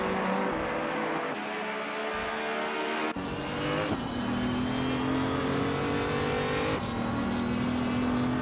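2014 BMW M235i Racing in a racing video game, its engine droning and revving through gear changes with sharp shifts in pitch, loud and continuous, with occasional tire noise and no talking.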